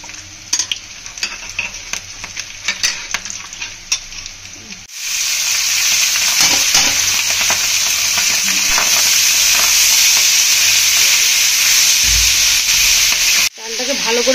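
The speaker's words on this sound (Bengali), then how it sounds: "গোটা গরম মশলা ফোড়নে দিয়ে দিলাম, তেজপাতা, এলাচ," Whole garam masala spices, bay leaf and cardamom, hit hot oil and ghee in a pan, setting off a loud, steady crackling sizzle that runs for several seconds after some softer clinks and rustles, then cuts off abruptly.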